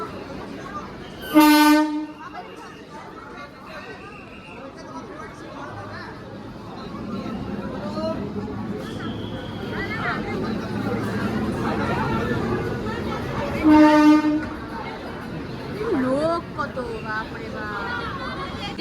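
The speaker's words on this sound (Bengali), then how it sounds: "এই যে আমাদের হাওড়া যাওয়ার ট্রেন চলে এসেছে" Two loud train horn blasts from an arriving train bound for Howrah, separated by about twelve seconds, sound over the murmur of a crowded platform with people chattering.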